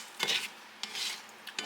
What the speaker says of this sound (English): We'll stir that all around,